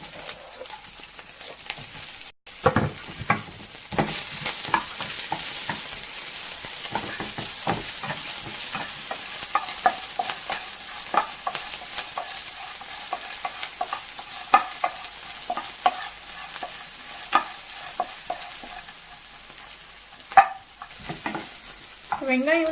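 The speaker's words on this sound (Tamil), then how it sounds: "மிளகா கொஞ்சம் வதங்கினதும் அதோட வந்து வெங்காயம் சேர்த்திக்கலாம்." Green chillies and onions sautéing in a pan for a drumstick-leaf and banana-flower stir-fry, a soft sizzle under frequent rhythmic scraping and tapping of a spatula over a long stretch.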